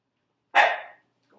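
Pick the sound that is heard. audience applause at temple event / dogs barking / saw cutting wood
dogs barking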